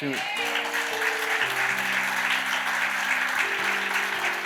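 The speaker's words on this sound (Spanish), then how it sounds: "Dele un aplauso." A church congregation applauds during a Spanish-language sermon, sustained clapping over held organ or keyboard chords, with people's voices mixed in.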